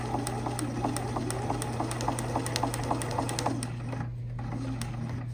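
Sewing machine stitching a fabric bunting pendant: a quick, steady run of rhythmic mechanical needle clatter over a constant motor hum, stopping near the end and leaving only the hum.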